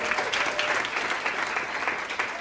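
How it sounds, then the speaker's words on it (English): A round of audience applause welcoming a newly hired assistant manager at an educator academy draft event, steady dense clapping from a crowd at moderate volume, even throughout with slight swells. "Give him a big round of applause."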